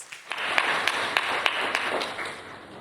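Conference audience gives a round of applause, fairly light clapping in a room with sharp periodic taps standing out over a steady patter.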